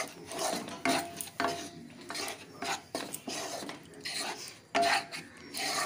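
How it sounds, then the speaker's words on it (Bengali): Sattu flour being stirred and fried in ghee in a pan, with repeated scraping and clinking of a spoon against the metal pan in close, irregular strokes, no talk. "ঘি দিয়ে আরও বেশ কিছুক্ষণ আমি নাড়াচাড়া করে ভেজে নিচ্ছি।"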